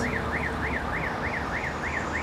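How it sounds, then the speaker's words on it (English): A car alarm on a city street in Voronezh, Russia, wails in a steady rising-and-falling cycle about every third of a second, continuous and fairly loud over low traffic rumble. "A car alarm, a bus."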